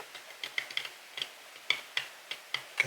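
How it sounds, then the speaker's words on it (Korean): A knife carves a handmade stone seal, giving a series of crisp, dry scraping ticks that come in short irregular strokes, close and fairly quiet with no talk. "새기는 소리 들리시나요? 새김 소리, 마치 눈 밟는 소리 같이"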